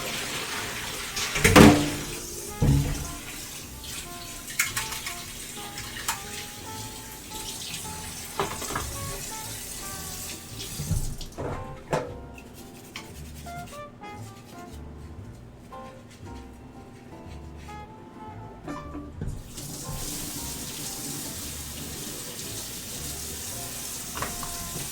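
Cold tap water runs into a kitchen sink for cleaning, a steady faint stream with clinks and handling noises, thinning out midway before resuming.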